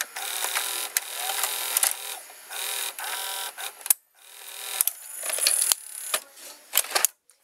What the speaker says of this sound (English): It ejects the cassette with no damage.